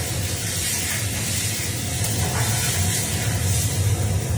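Kashmiri chilli spice paste hits a hot pan for a cauliflower roast and sizzles with a steady, loud, close hiss that runs unbroken throughout, with no voices.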